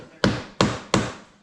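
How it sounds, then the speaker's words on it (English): Three sharp, evenly spaced hammer knocks strike a timber splice being driven into place, each a close, solid wooden thud that rings briefly and fades. "you can knock it with a hammer"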